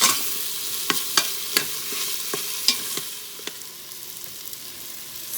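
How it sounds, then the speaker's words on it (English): Dal sizzling on high sauté mode in an Instant Pot while a spoon stirs it, soft steady frying hiss punctuated by close, irregular scraping knocks of the utensil against the inner pot. "Keep stirring in between."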